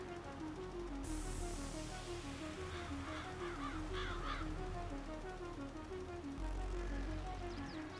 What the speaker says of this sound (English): I didn't even realize we didn't have crow sounds in FS19.